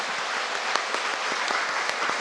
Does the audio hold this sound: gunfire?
no